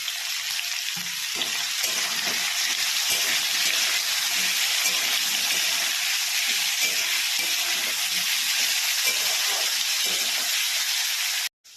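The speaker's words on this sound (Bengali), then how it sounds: "এবার এই সবজিগুলোকে আগে ভেজে নেব।" Mixed vegetables with bitter gourd fry in a pan, a loud, even, steady sizzle and hiss of hot oil that carries on throughout and then cuts off abruptly at the end, with faint stirring knocks underneath and no speech.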